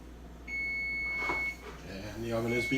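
An oven timer beeps with a steady high electronic tone while chocolate chip cookies bake in a home kitchen, sounding under a person's nearby talk.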